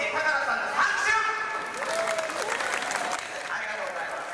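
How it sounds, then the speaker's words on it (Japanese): Audience applause at a bon odori festival event, a steady patter of many hands clapping beneath people talking and calling out over it. "拍手"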